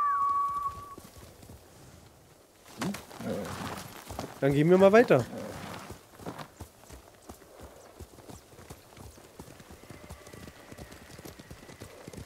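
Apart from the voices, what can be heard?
horse clip-clopping in the video game Ghost of Tsushima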